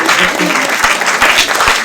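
Audience clapping at a screening event fills the room with dense, steady applause for the whole stretch, with a few sharper individual claps standing out.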